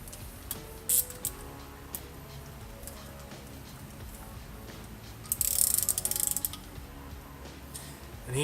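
A ratchet clicks in short bursts as a cam gear is tightened back onto an engine, with a louder, denser run of rapid clicks near the end, close up and without talk.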